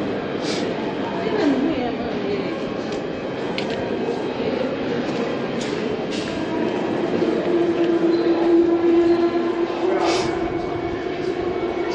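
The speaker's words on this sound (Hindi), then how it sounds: "अभी ट्रेन आ गई है जी" A London Underground train on the Bakerloo line pulls into the platform with a loud rumble, rattling wheels and a sustained squeal, close by as voices murmur in the station.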